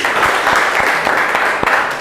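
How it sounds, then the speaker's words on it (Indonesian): Classroom applause for a student named Hasbi during a linear programming maths lesson, a steady patter of claps from a group of pupils with a few sharper individual claps standing out. "Tepuk tangan untuk Hasbi."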